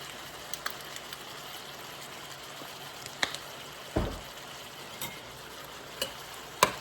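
A spoon stirs saltfish, okra and butterbean in a pot over a low simmering hiss, with a few scattered scrapes and knocks, one heavier thud in the middle, and no speech.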